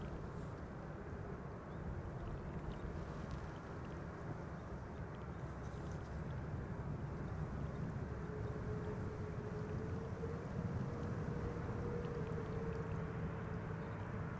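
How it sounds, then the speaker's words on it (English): A United Airlines Boeing 787-8 Dreamliner, ten years old and bound for Washington, D.C., rolls for takeoff from the runway threshold at Schiphol Airport, a steady distant jet roar with a faint rising engine tone, no voices. "It's just going to follow suit and take off from the"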